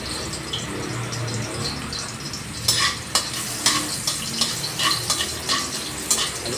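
Garlic, onion and ginger sautéing in a pan for chicken tinola: steady low sizzling with a spatula stirring and scraping in several sharp taps, close up and with no talking.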